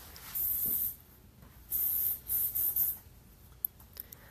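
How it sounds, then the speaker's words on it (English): A hair oil spray, a Definition Mist, hisses onto hair in several short bursts close to the listener, separated by quiet gaps with faint handling sounds. "get a little bit more of the oil spray here underneath"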